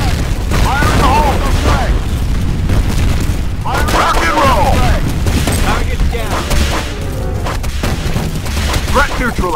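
Heavy booming blasts and gunfire fill a chaotic multiplayer firefight in the shooter F.E.A.R., where a grenade goes off among loud repeated explosions while voices call out over the din.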